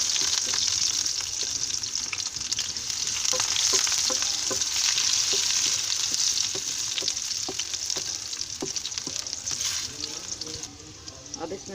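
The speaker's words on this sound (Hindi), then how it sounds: "तेल हमारा हो गया गरम, इसमें डालेंगे लहसुन।" Garlic cloves sizzling in hot oil for a moong masoor daal tarka, a steady loud frying hiss with scattered crackles and occasional stirring clicks throughout, no talking.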